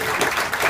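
An audience applauding for Alderwoman Green of the 15th Ward at an evening community gathering, a dense, steady burst of many hands clapping at close range.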